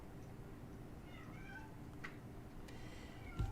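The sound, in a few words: cat screaming meow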